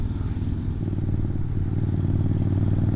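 A motorcycle rides through Sabaduri forest, its engine holding a steady, close mid-pitched drone with light rattling clatter throughout and no talk.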